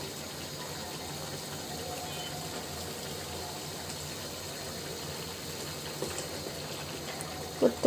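Small fish simmering with spring onion stalks in a village-style curry in a pan, bubbling to a boil with a steady, even hiss and gurgle, ending in a couple of light clinks.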